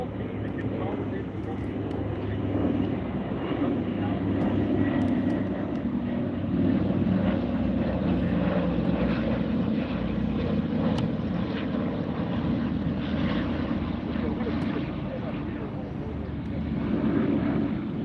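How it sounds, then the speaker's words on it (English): Propeller warbird aircraft drone overhead at the Oshkosh EAA AirVenture airshow, a steady, loud engine rumble that swells slightly and holds throughout with wind and crowd noise beneath. "We have warbirds everywhere."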